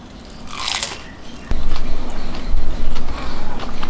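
A close, crisp bite into the flaky fried crust of a haupia pie gives a sharp crunch, followed by steady loud chewing and mouth sounds.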